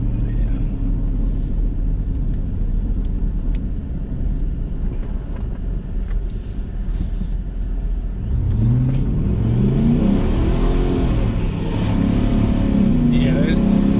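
A supercharged 7.3L Godzilla V8 idles with a steady rumble, then revs up under light throttle in rising and falling surges, heard close with wind noise over the microphone.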